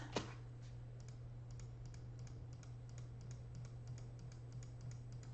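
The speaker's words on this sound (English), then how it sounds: "delightful clicking noise is coming with us" Computer keyboard typing during computer work, soft quick key clicks in a steady stream under a constant low electrical hum, with no one speaking.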